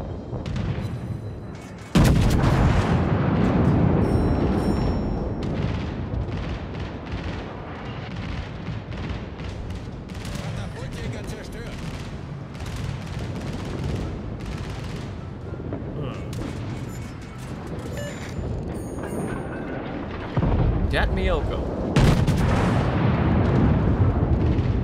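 Naval gunfire in the World of Warships video game: loud, repeated cannon booms and explosions layered over a constant rumbling battle backdrop, with a player talking throughout.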